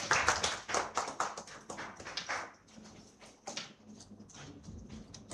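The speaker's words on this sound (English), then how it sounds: "Please give a huge round of applause." Audience applause at an IEEE international conference certificate ceremony, a loose patter of claps from a modest group, stronger at first then thinning into scattered, uneven hand claps.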